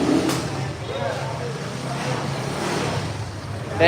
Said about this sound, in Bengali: যারা বাইকটা স্টার্ট নিয়েছে দেখেন সবাই